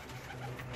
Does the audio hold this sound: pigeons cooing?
yes